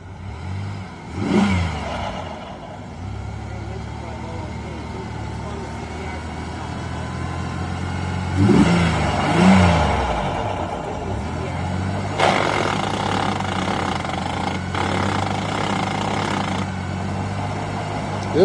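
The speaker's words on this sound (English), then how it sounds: "Well, the motor runs." A car engine runs steadily with a low rumble, swelling into a couple of louder revs midway before settling back to idle; the car is stuck in neutral and has a soaked, waterlogged interior.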